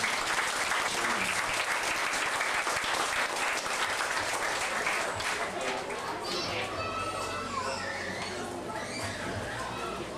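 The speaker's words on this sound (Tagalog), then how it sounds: "Pinakalakas sa palakpak para sa Panginoon." A church congregation in Marikina claps loudly, a dense, sustained wave of applause that fills the room and carries some cheering and voices. The applause eases slightly toward the end.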